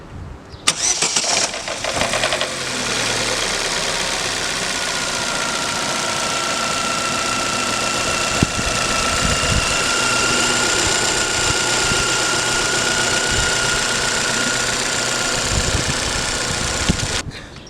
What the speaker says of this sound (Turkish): Sen ayarından sonra motorun çalışmasını gösteriyoruz.